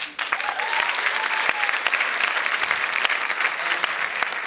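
Steady applause from an audience at a school assembly fills the room after a thank-you speech, dense clapping sustained evenly throughout with no talking over it.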